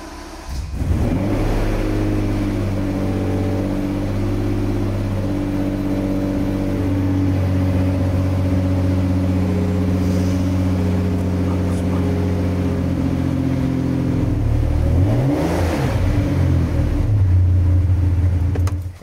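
A Porsche sports car engine rumbles at a steady, loud idle, swelling briefly as it revs near the end, close by with no talk.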